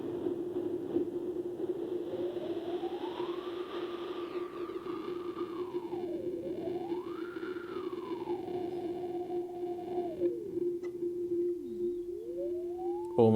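A Behringer Brains synth module plays a steady sustained tone with its filter resonance pushed almost to a sine wave, while a whistling resonant peak sweeps up and down above it, constant and alone.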